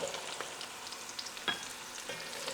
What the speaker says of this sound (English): I'm going to add in my carrots to fry out